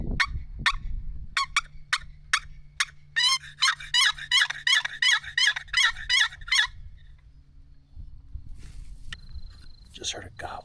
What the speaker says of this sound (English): just heard a gobble. I think behind us.